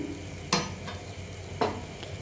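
Soft sizzling of raw-potato chilla batter frying in oil on a hot griddle, with two sharp scraping strokes of a spatula.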